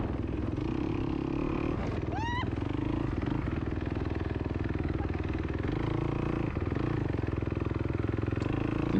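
A dirt bike engine drones continuously and loudly as it rides through mud in a hare scramble, with rattling and clatter from the rough ground and a brief squeak partway through.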